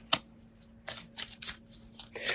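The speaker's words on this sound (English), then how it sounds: "So now I am shuffling one of our Archangel Raphael Healing Oracle cards." A deck of Archangel Raphael Healing Oracle cards is shuffled by hand close up, giving several quick riffling bursts with short pauses between them and no talking.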